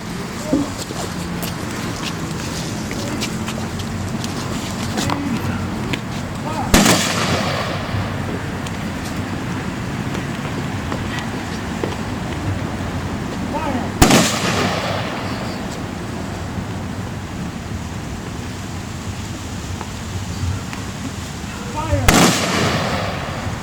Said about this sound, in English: Honor Guard, do 21-gun salute.